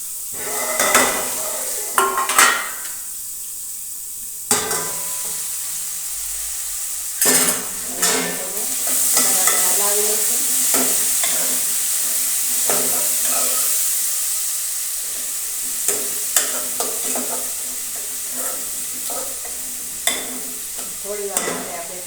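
Curry leaves and onions fry in a pan with a continuous sizzle, broken by sharp scrapes and clinks of a spoon against metal at irregular intervals, all close up.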